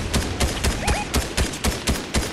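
Gunfire in the game Fortnite: a fast series of sharp, loud shots at a fairly even rhythm, roughly nine in quick succession, with no talking.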